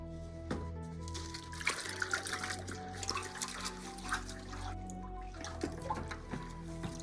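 Warm water with dish soap sloshes and trickles in a basin, with a brief spray and soft splashing, steady and close throughout.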